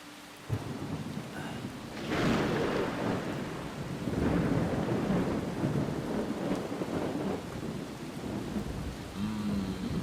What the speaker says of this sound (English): Nothing like a good old storm.